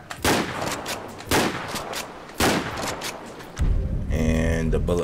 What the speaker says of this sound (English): And sawed off shotgun.